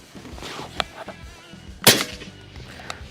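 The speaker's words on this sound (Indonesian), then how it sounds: "Kita tembakan lagi." A single sharp, loud air rifle shot cracks out midway, with faint clicks and handling noise around it.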